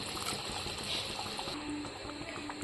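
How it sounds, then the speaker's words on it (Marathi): Water pours steadily into a simmering pan of pav bhaji, a continuous soft trickling and sizzling hiss heard close by with no talking. "मी थोडंसं पाणी ॲड करून घेते याच्यामध्ये।"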